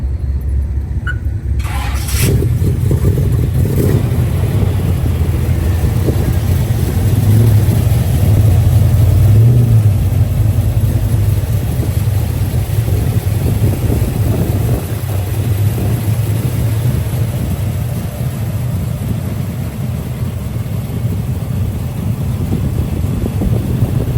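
A Chevy C10 pickup truck cranks briefly and fires up loudly, then its engine rumbles and revs in rising and falling surges nearby for about twenty seconds.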